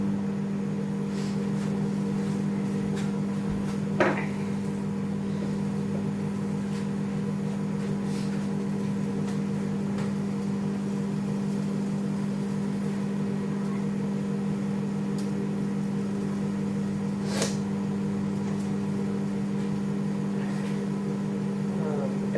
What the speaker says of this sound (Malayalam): കടലക്കറി ഇടണ്ട ഒന്ന് ചൂടാക്കി എടുക്കണം മൈക്രോവേവിൽ ഒരു ഒരു മിനിറ്റ് ചൂടാക്കണം